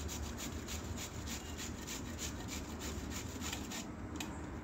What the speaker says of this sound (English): have half cabbage, so I am grating it like this. It will come small like a rice granules.